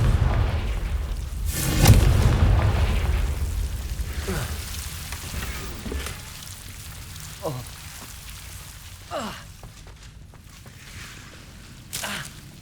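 Spell blasts from the Confringo fire spell in the Hogwarts Legacy game: a heavy rumbling boom early on, then several sharp, short crackling bursts at intervals over a low ambient hum, with no voices.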